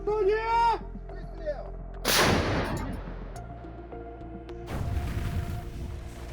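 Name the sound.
Russian artillery firing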